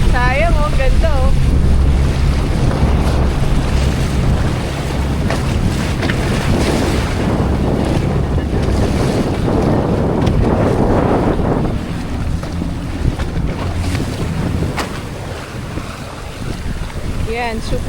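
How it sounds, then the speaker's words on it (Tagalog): Sea ambulance boat crossing rough, very large ocean waves off islands on the way to Basilan, with steady engine and hull rumble, heavy wind buffeting the microphone and wash of water throughout, loud and continuous. "super laki ng alon"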